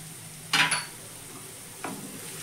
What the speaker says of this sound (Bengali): ভালো করে আমি মিশিয়ে নিলাম